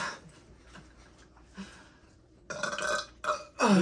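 Several loud burps from a kid during a pizza-eating contest, the first faint ones giving way to two long, rough eructations near the end, alone without talk.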